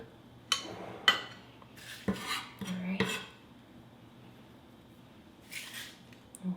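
A kitchen knife chops the last bits of minced ginger on a board, several sharp close taps and scrapes in an uneven rhythm, followed by a quiet pause and one more short scrape.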